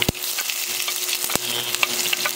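Onion goes into a hot pan and fries, making a loud, dense sizzle with a few spoon knocks and stirring scrapes, close up and with no voices.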